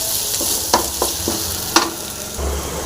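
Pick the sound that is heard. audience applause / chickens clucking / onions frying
onions frying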